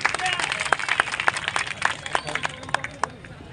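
Scattered applause rises from a crowd at a political speech gathering in Aurangabad, with sharp individual claps popping out irregularly over a steady murmur of background noise.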